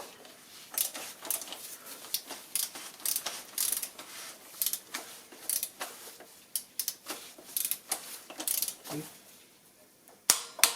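Ratcheting wrench tightens a car filter during a Mercedes and Toyota filter change, giving a quiet run of rapid, irregular clicks close by, ending in a couple of sharper snaps.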